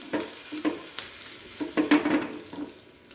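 A temper of mustard seeds, curry leaves and dry chillies sizzles softly in a pan for brinjal bolu huli, with scattered crackles, pops and the scrape of stirring, fairly quiet and without talk.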